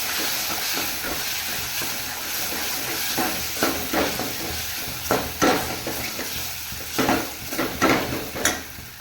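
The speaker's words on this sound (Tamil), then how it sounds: "அந்த விழுதை சேர்த்து நல்லா வதக்கிக்கணும்." Ground horsegram, cumin and pepper paste sautés in a pan for Tamil horsegram rasam, giving a steady hiss and sizzle with repeated scraping and stirring strokes that grow louder and more frequent toward the end.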